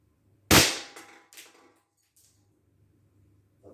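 A single sharp crack from an Umarex Hammerli 850 Airmagnum 16-joule CO2 air rifle, close and loud, followed by a couple of fainter knocks and clicks in a quiet room.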